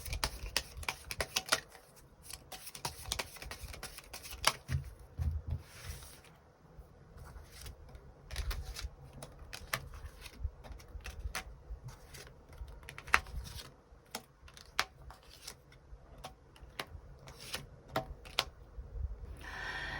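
Tarot cards are shuffled and handled close up for a long stretch, giving quiet, rapid papery riffles and flicks in irregular bursts with short pauses, soft and steady throughout.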